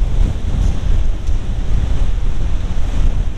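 Strong gusting wind batters the microphone on a stormy seashore, a loud continuous low roar mixed with surf, with no voices heard.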